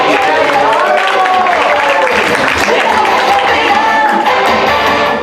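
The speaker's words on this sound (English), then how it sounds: "Round of applause for Kyle." An improv comedy audience claps and cheers loudly and steadily for several seconds, with voices calling out over the dense applause.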